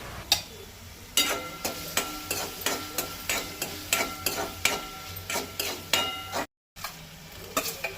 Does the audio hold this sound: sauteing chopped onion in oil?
yes